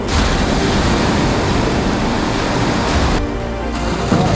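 Ocean surf breaks continuously offshore, a steady wash of waves rolling in, loud and close with a slight dip near the end, heard from a kayak out on open water while fishing.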